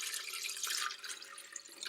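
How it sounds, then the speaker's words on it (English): Water, half a liter of it, pours steadily into a humidifier tank as a soft, continuous trickling splash heard faintly up close, with no voices. "So I have a ½ liter of water. I'll pour that in the tank."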